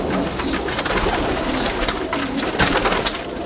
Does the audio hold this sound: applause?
no